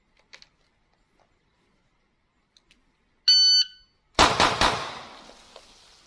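Electronic shot timer on a pistol range giving a single short start beep before a Mozambique-style isolation drill with a Taurus GX4, followed by loud sharp gunshots and their echoing tail.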